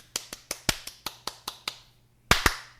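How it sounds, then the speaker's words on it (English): A few people clapping slowly for a podcast guest during a retro anime review, with about nine evenly spaced sharp, close claps, then a pause and two louder final claps. "Round of applause for Wenzel"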